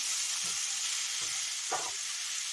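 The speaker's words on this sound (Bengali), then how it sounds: "এখানে আমার এঁচুড়ের তরকারি কষা চলছে" Jackfruit curry being sautéed with spices in a pan, a faint steady sizzle with three soft stirring scrapes spaced about half a second apart.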